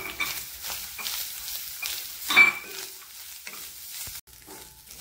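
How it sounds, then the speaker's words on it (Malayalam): Grated coconut is stir-roasted dry in a pan, giving a soft, continuous scraping and faint sizzle with repeated stirring strokes and one louder scrape partway through, and no talking. "അത് നമുക്ക് ചിക്കി ഇതിൻ്റെ വെള്ളം തീരെ ഇല്ലാതെ ഇതാക്കി ചൂടാക്കി എടുക്കണം"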